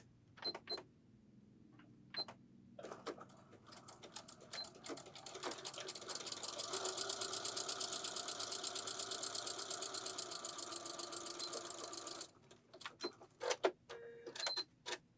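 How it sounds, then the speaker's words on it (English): A sewing machine runs a straight seam down the side of a skirt, starting with a few short stitch bursts, then a long steady rapid whir of stitching, ending with brief clicks and handling noises, close and quiet, no talk. "So 3/8 seam on each side, and then we can ease our skirt into it. So just sewing straight down."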